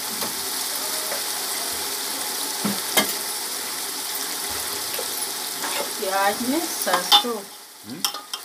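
Ginger garlic paste sizzling in a pan while being stirred for a fish curry, a steady soft frying hiss with occasional scraping stirs and clinks, and a voice speaking briefly near the end.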